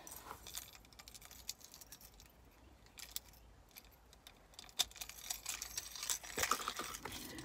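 Keys on a car key ring jingle and clink in a quiet room, with light scattered rattles building into a busier cluster of metallic jangling near the end.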